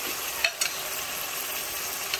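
Bay leaf and black cardamom roast in hot oil with a steady, close sizzling hiss and a couple of faint clicks from stirring.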